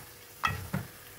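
Chicken pieces for tinolang manok stirred in a pot, two short scraping and clattering strokes with a soft sizzle beneath, close and fairly quiet, no talking.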